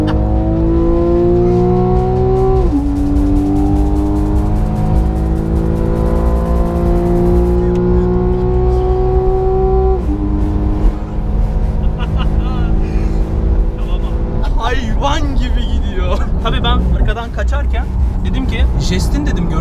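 Porsche 911 engine revving while driving to work, a loud, steady engine note that climbs through the gears in rising sweeps, dropping between shifts, with road and wind noise throughout and no clear talk over it.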